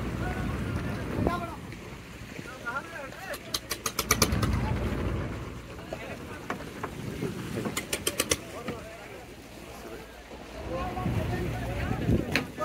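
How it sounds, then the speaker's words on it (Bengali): A fishing trawler arriving at a riverbank on the Padma brings a low engine rumble and water sounds under gusty wind noise, with people talking nearby and bursts of clattering in between. "এই যে একটা ট্রলার আসলো"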